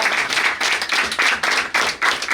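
A workshop audience applauds in a short burst of clapping, with several loud pulses of many hands over a couple of seconds.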